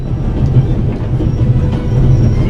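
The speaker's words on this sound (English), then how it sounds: "And now you're here, on an out-of-control train in the Alps" A runaway train in the Alps from the video game The Raven rumbles loudly and continuously, with a heavy low roar and a rhythmic clickety-clack of wheels on rails.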